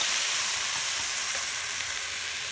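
Onions sizzling and frying in a pot with melting ingredients for pigtail ochro rice, a steady close hiss and crackle with faint stirring, no voices.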